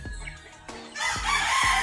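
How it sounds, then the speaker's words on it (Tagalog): A rooster crows loudly and close by, a short strained cry following a few low clucks. "daming manok dito."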